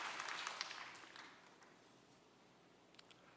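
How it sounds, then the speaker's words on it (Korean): A church congregation applauds at a pastor's call to give glory to God, a soft, fairly distant patter of clapping that fades away over a few seconds, followed by a couple of faint isolated sounds. "우리 하나님께 영광의 박수를 올려 돌리십시다"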